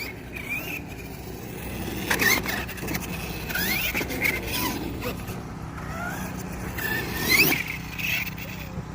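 A Kraton 6S RC car with torquey gearing whines and revs in bursts at a skate park, the motor rising and falling with quick squeals, fairly faint against open-air background noise.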